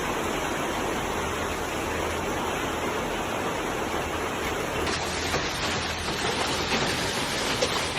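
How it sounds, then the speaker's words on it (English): Dense, steady roar of heavy rain and hail pouring down, close and loud throughout with no pauses, a constant hissing wash. "Hail and heavy rain strike Laurel at the same time, turning a quiet town into a loud, intense scene."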